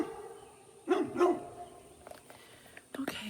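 A dog barks at a drone in a household setting, two close sharp barks followed by softer yips and a final short bark.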